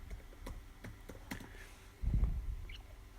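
A handful of faint, quick clicks from a computer keyboard come in an uneven rhythm during quiet typing, followed by a soft thump.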